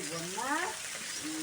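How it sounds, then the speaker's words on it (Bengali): Black cumin (kalo jeere) sizzles in hot oil in a pan alongside panch phoron and coriander while being stirred, a steady frying hiss with a voice briefly speaking over it. "কালো জিরে দিয়ে কষবো মানে নাড়বো"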